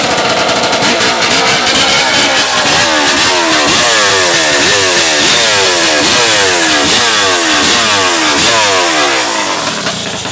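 A chainsaw driven by a Honda CR500 two-stroke motorcycle engine runs loud and close with a harsh, raspy buzz, repeatedly rising and falling in pitch as it revs.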